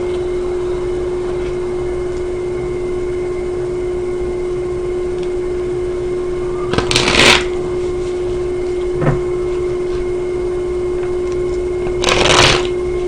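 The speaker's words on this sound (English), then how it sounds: "I don't know why Holy Spirit has me wanting to shuffle the cards" Two brisk riffling bursts of cards being shuffled, several seconds apart, with a faint single tap between them over a steady hum of room noise.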